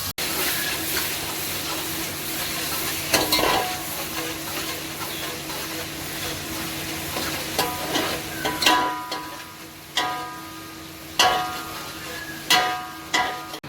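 Onions fry in a pan for white chickpea (kabuli chana) pulao, giving a continuous close sizzle broken by repeated sharp scrapes and clinks of stirring, with no talking.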